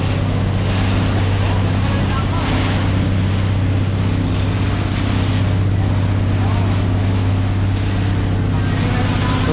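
Sea waves splash and wash against a moving boat off Claver, Surigao del Norte, loud and continuous under a droning motor hum and wind buffeting the microphone.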